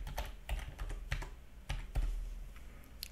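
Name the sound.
typing a password on a computer keyboard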